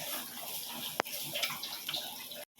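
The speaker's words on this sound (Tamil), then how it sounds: "தண்ணி ஊற்றிக்கலாம்." Water pours steadily into a cooking pan of tamarind curry with a splashing, rushing sound, a sharp knock partway through, then it cuts off abruptly.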